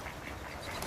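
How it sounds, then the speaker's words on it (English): Ducks quacking as they swoop low in a botanical garden in Hobart, Tasmania, giving brief, faint, raspy calls over outdoor background noise. "We've had angry birds, and now we have angry ducks swooping on us, like magpies."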